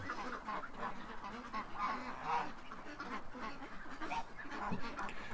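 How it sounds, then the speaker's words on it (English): Geese and ducks being shut in for the night, a busy flock quacking and honking in overlapping bursts close by, continuous and fairly loud with no talk over it. "I think that's the goose that likes me."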